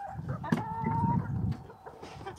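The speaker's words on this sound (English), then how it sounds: "There's Rex, there's our rooster." A rooster calls out nearby at a chicken coop in a short, strained crow, with some low rustling and faint background noise around it.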